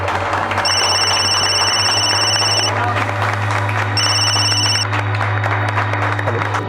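A telephone rings loudly in a crime drama scene, two bursts of electronic ringing separated by a short pause, over a steady background hum.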